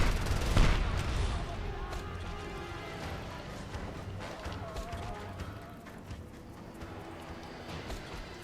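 Dense, continuous gunfire from a Just Cause 2 firefight, with assault rifles in use, rattling steadily under a busy game soundscape of scattered bursts and impacts, loudest near the start then easing slightly.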